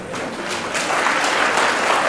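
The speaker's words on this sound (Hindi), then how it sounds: "भाई इसमें ताली की बात कौन सी होगी" An audience at a yoga class gathering claps in continuous applause, a dense, steady crackle of many hands that grows slightly fuller toward the end.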